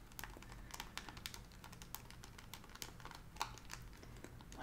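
Calculator buttons tapped in quick, soft plastic clicks, close and quiet, in an irregular rapid rhythm with one sharper press midway.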